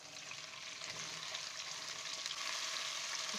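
Onion frying with cumin seeds in hot oil for rajma curry, a steady close hiss and crackle that holds at an even level throughout, with no voices.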